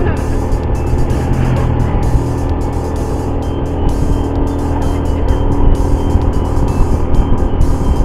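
Car engine labouring at full throttle while climbing an extremely steep forest road near Wonosobo, a loud, steady, droning roar that stays close and continuous throughout.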